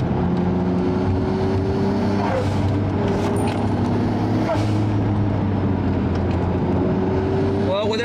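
A Nissan Stagea Autech 260RS wagon drives along, its engine holding a steady droning note with a couple of rising revs and shifts, loud and close throughout.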